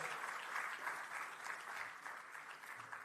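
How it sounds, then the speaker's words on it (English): Continuous applause from an audience greeting a guest at an evening event, a dense steady wash of clapping heard faintly with no voices over it. "Let's put our hands together and give a round of applause for him as well."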